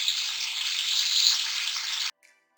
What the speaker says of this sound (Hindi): 1 से 2 मिनट में इसे फ्राई करूंगी।